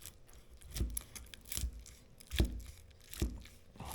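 Crisp, crunchy smoked pork belly from a Pit Barrel Cooker is cut and cracked, giving four soft crackling crunches spaced under a second apart, faint and close.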